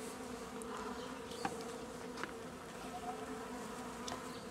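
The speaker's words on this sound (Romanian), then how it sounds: "Aici mai rămân vreo 200-300 de albine și ele vor intra" Honey bees buzzing around a hive during the rescue of a queenless nucleus colony, a continuous close hum with individual bees zipping past now and then, no voices.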